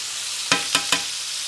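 Steak frying in butter in a pan, a dense close sizzle broken by three quick scraping stirs or turns in rapid succession.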